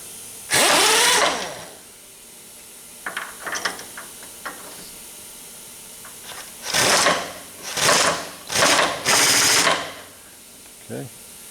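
A power drawbar on a 2015 Cleveland CNC bed mill fires in several short pneumatic bursts and ratcheting clatters as a tool is released, close by in a workshop, with a few sparse mechanical clicks between.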